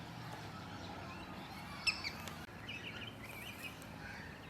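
Birds chirping and calling in an Adelaide suburban park, faint and distant, with a few brief sharp tweets over a soft outdoor hum.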